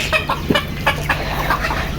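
Several chickens cluck in short, scattered bursts close by, overlapping one another with a low steady hum underneath.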